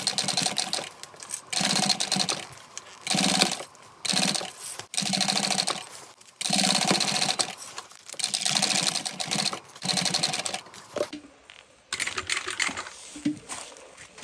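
A sewing machine stitching a small backpack and hitting staples in the fabric, with rapid mechanical chattering in repeated bursts of one to two seconds separated by short pauses, loud and close, with no talking.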